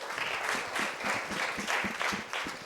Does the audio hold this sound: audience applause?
yes